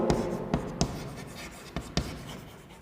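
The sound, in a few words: writing the lecture topic on a board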